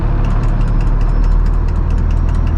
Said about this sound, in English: So this is its default sort of lowest idle speed, which is just a hair under 700.